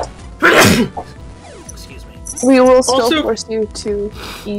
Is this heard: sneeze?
yes